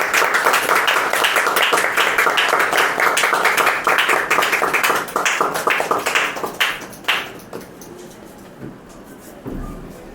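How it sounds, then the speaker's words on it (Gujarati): Audience applause at a lamp-lighting inauguration during a kids' fun-and-games event, dense clapping for several seconds that thins out into a few scattered claps and fades. "તાળીઓ દ્વારા વધાવી લેશો."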